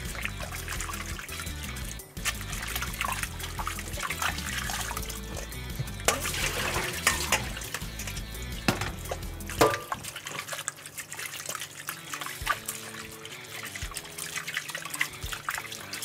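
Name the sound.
water running while rinsing soba noodles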